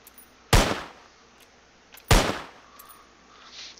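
Two sharp gunshots in Cataclysm: Dark Days Ahead, each a loud crack with a short decaying tail, spaced about a second and a half apart against a quiet background.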